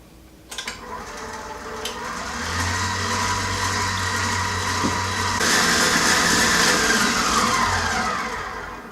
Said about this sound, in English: we're going to whip this until it's a nice stiff whipped cream